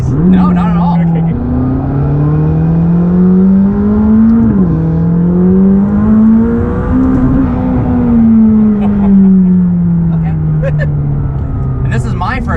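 Steady engine drone from inside a McLaren or Ford GT sports car at speed, pitch rising and falling through gear changes and acceleration, loud and close throughout, with passengers talking over it.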